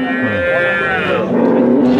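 A cow moos loudly and close by, one long drawn-out low call that rises and holds for about two seconds.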